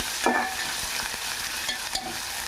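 Onion pieces frying in a pan for a crispy potato fry, with a steady loud sizzle and a few stirring scrapes, no voices.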